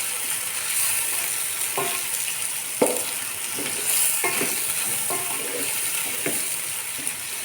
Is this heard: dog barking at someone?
no